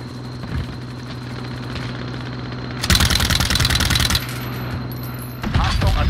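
An attack helicopter drones in a video game, steady and close under constant engine hum. Bursts of rapid gunfire cut in partway through and again near the end, along with clinking metallic effects.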